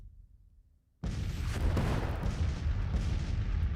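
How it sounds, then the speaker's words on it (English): Artillery bombardment on a Civil War battlefield in Grand Tactician: The Civil War erupts after a second of quiet into a dense, continuous rumble of cannon fire, booming and rolling without pause. "Looks like we're bombarding this enemy artillery brigade."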